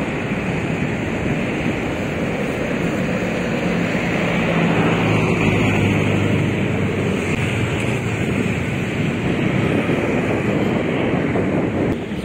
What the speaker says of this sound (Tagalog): Sobrang lakas ng hangin pero walang ulan.